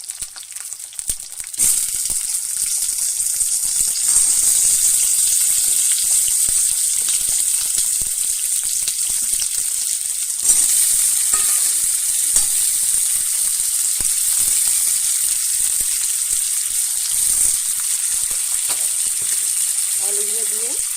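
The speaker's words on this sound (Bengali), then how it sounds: "আলুগুলো দিয়ে হাফ চামচ নুন দিয়ে দেবো, দিয়ে আলুটা ভালো করে ভেজে নেব।" Potatoes frying in a pan with salt, a loud, sustained sizzle lasting many seconds, punctuated by scattered crackles and spoon taps against the pan.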